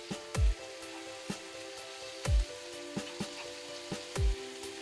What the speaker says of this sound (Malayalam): ഇനി 1 ടീസ്പൂൺ വെളിച്ചെണ്ണ ഒഴിച്ച് ഇത് 1 മിനിറ്റ് അടച്ചു വെച്ച് വേവിക്കാം.